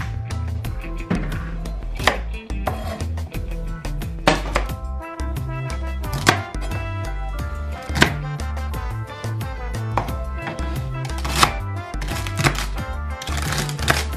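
A knife cuts vegetables into pieces on a cutting board with steady, close chopping taps and thunks, a few strokes each second, running for the whole stretch over a faint background of music.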